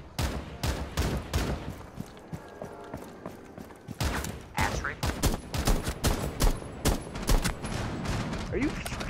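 Hip-fire gunfire in the video game Rainbow Six Siege rings out in rapid, loud bursts of shots with short pauses between volleys, while a voice talks over the firing.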